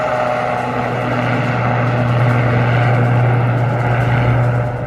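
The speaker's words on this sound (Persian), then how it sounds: "و حالا پهپاد غزه برای انجام مأموریت خود در آزمایش مشترک به پرواز در می‌آید" A Gaza combat drone flies its mission in a joint military test, its engine producing a loud, continuous propeller drone with a low steady hum and no pauses.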